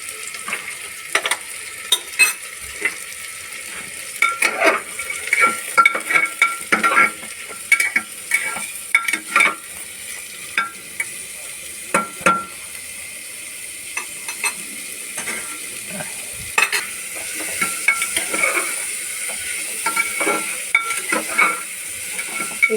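Grated carrots for gajar halwa stirred and fried in a pan, a steady sizzle broken by repeated scraping strokes of a spoon against the pan, close and fairly loud, with no talking.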